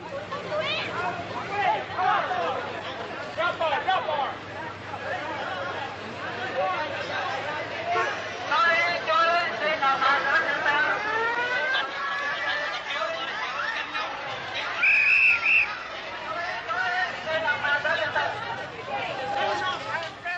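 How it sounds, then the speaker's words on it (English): Hundreds of Vietnamese civilians crowd the embassy gates, a dense, continuous babble of many overlapping voices with scattered shouts and chuckles, loud and close throughout. "By now, hundreds of Vietnamese civilians are attempting to crash the embassy gates."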